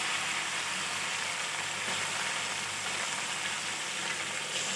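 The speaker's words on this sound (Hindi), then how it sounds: "लहसुन अदरक के साथ हम अपने चिकन को अच्छी तरह से भूनेंगे" Chicken frying with garlic and ginger in a karahi, heard as a steady, loud, close sizzle with a continuous hiss that stays even throughout, with no talking over it.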